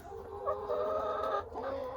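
Hens cluck and murmur softly in a low, continuous chorus, fairly close, with a faint background hum and no talking.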